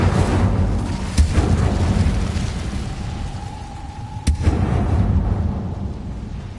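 The Incendio fire spell is cast in Hogwarts Legacy, a loud rumbling roar of flame with two sharp cracks, continuing as a heavy burning boom throughout.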